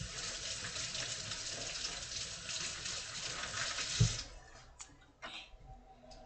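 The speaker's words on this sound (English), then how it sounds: "I'm going to wash my hands." Tap water runs steadily into a sink as hands are washed in a home kitchen, a continuous broad gush that cuts off partway through, followed by a few faint clinks and handling noises.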